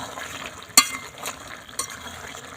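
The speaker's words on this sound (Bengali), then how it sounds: "একটু নাড়াচাড়া করে নেবো।" Jackfruit and potato curry is stirred in a pan, with soft scraping and a few sharp clinks of the spoon against the metal over a faint low sizzle.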